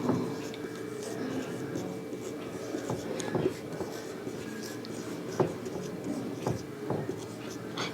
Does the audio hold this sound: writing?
yes